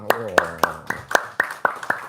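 Eight sharp hand claps land one after another at a steady, even pace, close and distinct, with a murmur of voices underneath.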